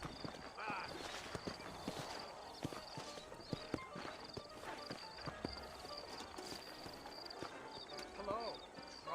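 Horse hooves clip-clop at a steady walking pace in the Red Dead Redemption video game, mixed with in-game dialogue, ambient sounds and music layered over the hoofbeats.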